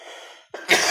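A single close, sharp cough bursts out with a rough, breathy tail, heard briefly after a short pause.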